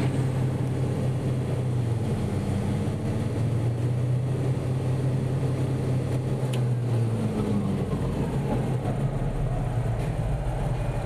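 The cooling fan of a D375 machine runs at high speed with a loud, continuous roaring whoosh over a deep engine drone. Its pitch shifts slightly partway through, and no one speaks.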